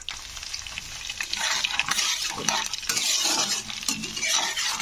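Garlic cloves and spices fry in oil in a pan for a tangy greens pickle, with a steady loud sizzle, repeated stirring scrapes and a few light utensil clinks throughout.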